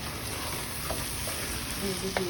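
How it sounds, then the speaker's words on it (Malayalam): Cumin and garam masala being stirred in a hot pan, a constant close sizzle with a few faint scrapes and light clinks of the spoon, with a hint of a voice in the background. "ഞങ്ങൾ ജീരകവും ഗരം മസാല എടുത്തിട്ടുണ്ട് ഇനി നന്നായിട്ട് ഇളക്കുന്നുണ്ട്"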